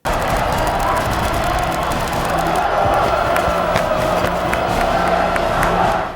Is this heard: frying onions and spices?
no